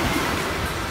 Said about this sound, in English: There's some waves out there.